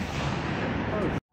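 An artillery gun fires a cluster bomb shell, a dense, roaring blast that sustains for over a second before cutting off abruptly into silence.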